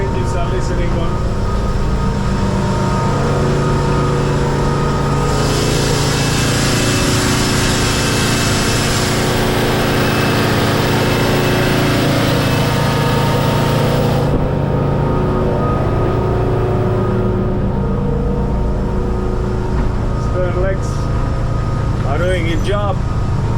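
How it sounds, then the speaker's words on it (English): Engines of a Jeanneau NC 33 motorboat running at sea during a sea trial, a loud, continuous drone that brightens and roars louder midway as throttle rises, then settles, with someone talking over it. "Let's see how the engines are listening on."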